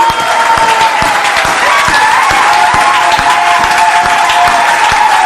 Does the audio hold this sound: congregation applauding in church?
yes